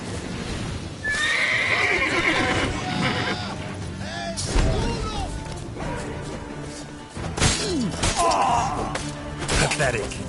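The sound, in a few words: horse Roach neighing and hooves clip-clopping in The Witcher 3 video game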